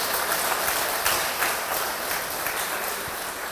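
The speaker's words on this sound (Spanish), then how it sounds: "Dale un aplauso al Señor, por favor." Church congregation applauding during a sermon, a broad wash of many hands clapping that stays steady and somewhat distant, filling the room without speech.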